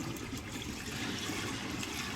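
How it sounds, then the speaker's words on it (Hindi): Water pours from a bucket into a 100-litre farm spray tank, a steady gushing splash heard up close and fairly quiet for a couple of seconds. "पानी डालते हैं अब हम"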